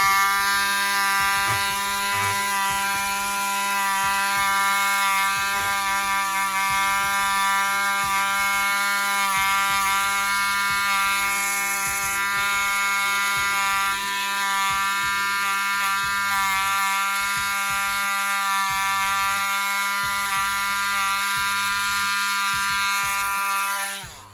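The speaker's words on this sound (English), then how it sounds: "this is why I like to Dremel these out personally" A Dremel rotary tool grinds down the plastic wrist peg of a Mezco action figure with a steady, high-pitched, close whine that holds for over twenty seconds, its pitch wavering slightly as the bit bites into the material.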